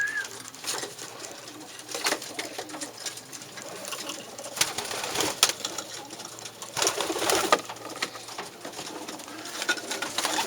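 Sion strain racing pigeons cooing in a loft, a steady low murmur of overlapping coos with occasional louder bursts and rustling, continuing throughout without talk.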